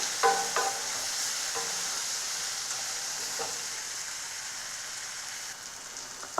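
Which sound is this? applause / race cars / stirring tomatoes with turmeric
stirring tomatoes with turmeric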